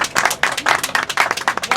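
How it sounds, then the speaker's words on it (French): A small audience at the launch of an association's local branch in Orléans claps in quick, distinct bursts, a handful of people applauding close by with no talk over it. "Ça s'applaudit quand même."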